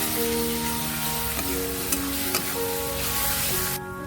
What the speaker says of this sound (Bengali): এবারে আদা রসুন দিয়ে সুন্দর করে কষিয়ে নিচ্ছি